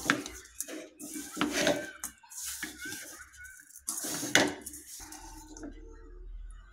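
Fish pieces being mixed by hand with salt and spices in a bowl for fish fry, giving soft, irregular clinks, scrapes and wet squishing up close, with brief quiet gaps.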